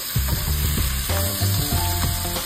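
Garlic, onion and tomato sautéing for chicken afritada, giving a continuous close sizzle broken by several spoon-stirring scrapes; no voices.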